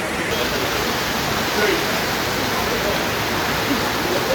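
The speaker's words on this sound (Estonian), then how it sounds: "Lihtsalt täiega kallab, nagu juga voolab sealt alla." Heavy rain pours down at an airport, a dense, even roar of falling water that fills the whole stretch without a break.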